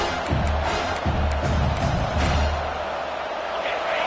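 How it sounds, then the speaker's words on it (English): Home crowd roars in the College Football 26 video game as the defense tries to get off the field on third down in South Carolina vs Clemson, a steady, dense stadium swell with brief peaks throughout. "Here comes this home crowd as the defense tries to get off the field on 3rd down."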